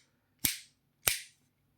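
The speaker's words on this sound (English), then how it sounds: "you can press it on and off and it makes a click sound." An electrical light switch being pressed on and off, giving two crisp, separate clicks about half a second apart, close and clear in an otherwise quiet room.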